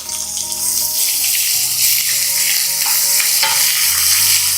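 Chopped onion sizzling loudly in hot oil in a pan on the stove, stirred steadily with a spoon, the frying hiss constant and close throughout.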